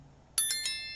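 A notification bell sound effect rings three quick bright dings in succession, the last one ringing out and fading, alone over a faint low hum.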